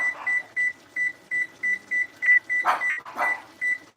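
A kitchen timer on a cooking appliance beeps in a steady series of short, regular tones as it is set for 20 minutes, with a couple of louder knocks or taps among them.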